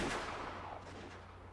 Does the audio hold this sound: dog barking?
no